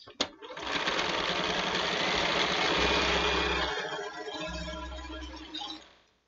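A sewing machine stitching a paper-pieced quilt block with white fabric, a steady close whirring hum running for several seconds before slowing and stopping.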